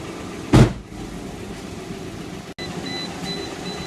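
A Peugeot 107 engine idles steadily after an engine swap, a low continuous hum with a sharp knock near the start and a brief dropout midway.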